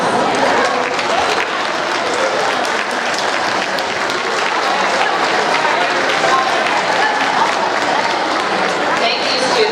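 A school awards audience at a seventh grade ceremony claps for honor students, loud continuous clapping from a large crowd that fills the whole stretch, with faint chatter mixed in.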